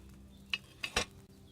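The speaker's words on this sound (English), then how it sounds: "Hear that bubbling? It's boiling." A cauldron boils over a fire in the video game Kingdom Come Deliverance 2, giving three brief, soft bubbling pops over a low, steady hum.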